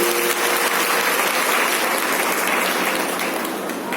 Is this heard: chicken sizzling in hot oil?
no